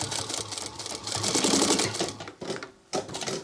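A walking foot sewing machine runs top stitching on a sling crossbody bag, a rapid mechanical chatter of the needle in close bursts with brief pauses between runs.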